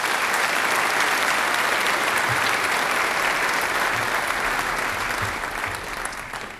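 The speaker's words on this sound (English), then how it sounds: "Round of applause for these students." Sustained applause from an audience at a 2012 senior recognition ceremony, honoring students with steady, dense clapping that holds for several seconds and eases off slightly at the end.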